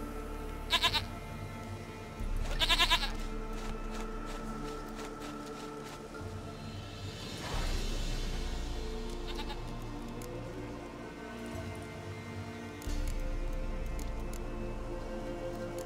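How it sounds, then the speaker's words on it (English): Goats bleat in The Witcher 3 video game, with a couple of short, sharp bleats early on over a low ambient game soundscape, followed by softer sounds and shifting background hum. "Goat of mine! Dearest, sweetest goat!"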